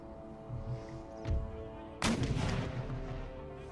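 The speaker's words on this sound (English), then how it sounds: "There we go, full broadside, full volley." A warship in Empire: Total War fires a full broadside volley during a battle at a city. A faint opening thud is followed by a sudden heavy cannon blast and a rolling rumble, set against steady background game noise.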